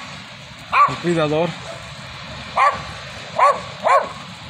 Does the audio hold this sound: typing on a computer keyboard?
no